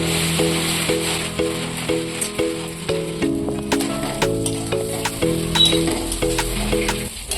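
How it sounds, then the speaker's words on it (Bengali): Gobindobhog rice frying in oil with cashews and raisins, stirred slowly in the pan, makes a steady close sizzle and hiss that runs throughout under a background music track. "তিন 4 মিনিটের মতো চালটা আস্তে আস্তে এইভাবে নেড়ে চেড়ে ভেজে নিতে হবে।"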